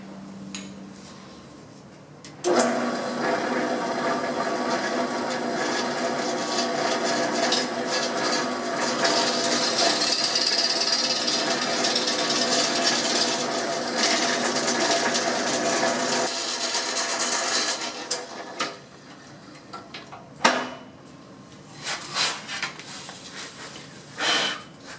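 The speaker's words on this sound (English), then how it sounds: "I'm going to clamp it in place while I drill this out with my drill press." A drill press bores out a bolt hole in a clamped metal part, a steady whirring and grinding that runs about fourteen seconds at close range and then stops, followed by scattered clunks and handling noises.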